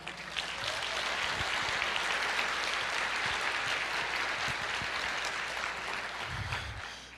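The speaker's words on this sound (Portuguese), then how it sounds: "pode aplaudir" A church congregation applauds during a sermon, a broad, even wash of clapping that holds steady for several seconds at moderate volume.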